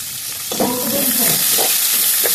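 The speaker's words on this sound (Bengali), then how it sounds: "আমি পেঁয়াজটা একটু ভেজে নেব।" Chopped onion frying in hot oil, a loud, dense continuous sizzle with a few scraping stirs of a utensil through the pan.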